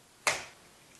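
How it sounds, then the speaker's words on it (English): A single sharp finger snap rings out close and clear, followed by a short fading tail in an otherwise quiet room. "when I snap my fingers"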